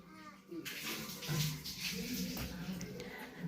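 Water rushes steadily into water pots, a continuous splashing pour with voices murmuring faintly in the background.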